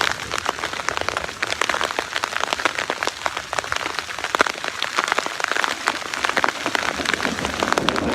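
Hail pelts down during a thunderstorm on a solo backpacking trip, a dense, continuous close-up patter of hard impacts without a break.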